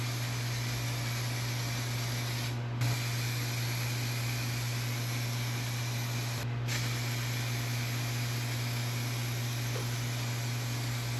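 A SEM Milano Red custom aerosol can sprays paint onto Integra side skirts in a long, steady, close hiss, broken by two short pauses.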